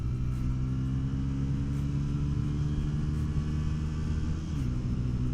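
Bajaj Pulsar N160 4V motorcycle engine revving steadily as the throttle opens, a loud, close, continuous droning rumble with a slight rise and no voices over it.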